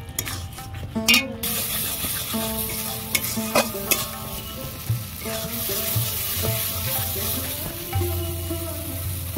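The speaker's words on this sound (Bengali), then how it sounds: "আমি সব কিছু দিয়ে ভালো করে কষিয়ে নিয়েছি। মশলা থেকে তেল ছেড়ে গেছে দেখুন।" Spice masala for glass-cup fish kalia sautéing in oil in a pan, a steady close sizzle broken by repeated scraping stirs and clinks of a spatula against metal, with faint music underneath.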